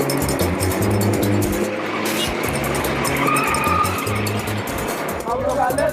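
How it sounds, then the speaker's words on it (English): Dense city traffic in Khartoum heard from inside a taxi, with a steady engine rumble, passing vehicles and a constant busy roar that runs without pause. "my taxi driver has to fight his way through Khartoum's chaotic traffic"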